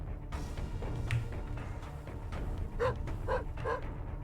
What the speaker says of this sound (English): I've never heard that dog bark sound before.